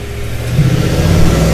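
A 2017 GMC Yukon Denali pulls away hard on a 0-60 mph run, its engine note loud and close, building in strength as the SUV accelerates.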